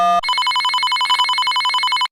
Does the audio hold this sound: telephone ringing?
yes